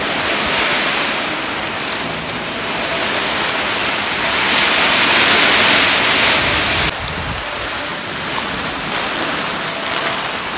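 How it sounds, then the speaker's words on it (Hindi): Heavy rain falling in a village, a dense continuous hiss of downpour that swells louder mid-way and then eases slightly, with no voices. "ये देखिए बारिश हो रहा है"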